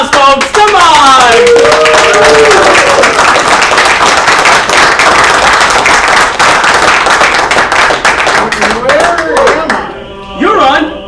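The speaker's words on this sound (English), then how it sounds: "Give him a round of applause, folks." A game show studio audience breaks into loud, sustained applause and cheering, dense clapping rolling on for several seconds before tapering off, with shouts and voices heard at the start and end.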